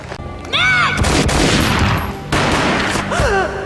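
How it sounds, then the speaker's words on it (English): Gunfire in the Max Payne video game: a dense burst of shots erupts after a short pause and rumbles on, with a second burst later, loud and close alongside brief whooshing game effects. "A gunshot boomed and she fell down in slow motion."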